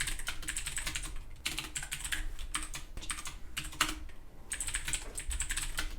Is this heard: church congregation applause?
no